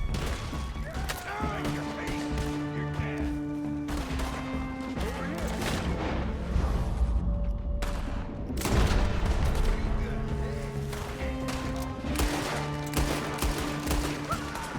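Gunfire from the Red Dead Redemption 2 video game: a fusillade of shots and heavy blasts cracking repeatedly over a steady orchestral score, fairly loud and dense for the whole stretch.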